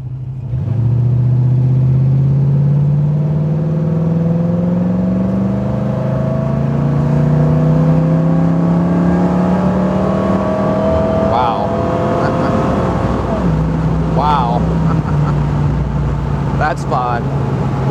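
A 1966 Shelby GT350 Mustang convertible slows and then accelerates hard. Its V8 engine note climbs loudly through the gears with rising pitch sweeps and a shift partway through, while someone talks over it.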